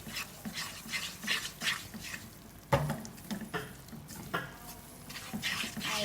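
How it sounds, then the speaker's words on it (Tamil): Sugar is stirred into sago kesari in a pan, with repeated soft scraping strokes in an uneven rhythm over faint background sizzle and a sharp knock partway through. "இப்போ வந்து நல்லா மிக்ஸ் பண்ணிடலாம்."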